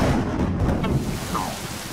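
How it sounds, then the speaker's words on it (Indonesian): Rain pours and thunder rumbles in a cartoon scene, a loud, dense wash of falling rain with a low rolling boom, heard close and without speech. "Setidaknya hujan turun."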